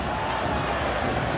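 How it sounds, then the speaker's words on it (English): A stadium crowd at a Chile vs Ecuador World Cup qualifier football match makes a dense, steady roar of applause and crowd noise. It fills the whole brief moment at an even level. "There's the applause."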